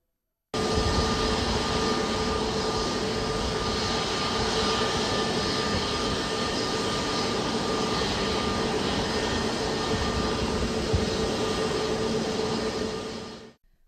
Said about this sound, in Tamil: மும்பை விமான நிலையத்தில் ஒரே ஓடுதளத்தில் இரண்டு விமானங்கள் அருகருகே இயக்கப்பட்டது